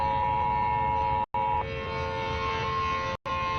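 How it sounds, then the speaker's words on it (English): A wailing emergency alert siren from a national alert broadcast sounds as a steady, loud tone with stacked harmonics, broken by two brief silent gaps, with no talking over it. "because the sirens are everywhere"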